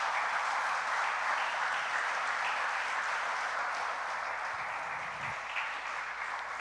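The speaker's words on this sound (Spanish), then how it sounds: "Dámosle un aplauso al Señor por eso." A church congregation applauding the Lord, a steady, full round of dense clapping that carries evenly throughout with no voices over it.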